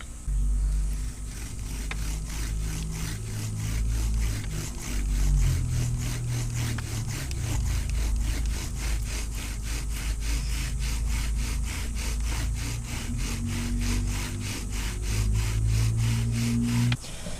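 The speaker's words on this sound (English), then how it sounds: "put all of these pieces together and to burn a hole into our hearth using our spindle" A bow drill spindle burns a hole into a wooden hearth with a rapid, regular back-and-forth rasping, each stroke scraping closely and loudly under a low rumble for the whole stretch.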